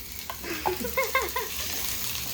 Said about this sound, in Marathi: त्याला थोडंसं फ्राय होऊ देऊ